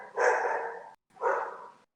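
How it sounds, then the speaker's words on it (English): Two loud, close dog barks ring out a second apart, each a sharp yelp trailing off, with silence between them and no talking. "I'm gonna mute until they stop barking."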